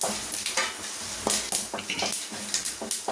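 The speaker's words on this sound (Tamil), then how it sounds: "ஒரு வடை சட்டியில் ஆயில் வச்சுட்டு ரெண்டு பட்டை ரெண்டு ஏலக்காய் ரெண்டு மூணு பிரியாணி இலை சோம்பு" Whole cinnamon, cardamom, bay leaves and fennel seeds frying in oil in a wok-like pan, heard as crackling bursts and scraping stirs that repeat irregularly and loudly, with no talking.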